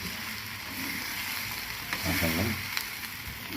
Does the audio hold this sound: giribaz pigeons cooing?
no